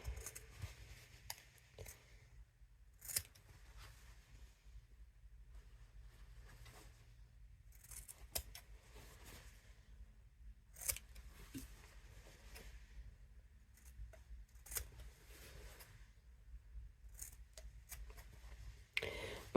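Scissors trimming fabric corners and the seam allowance of a sewn travel vanity case, a series of faint, sparse snips and crisp clicks spread over a quiet room.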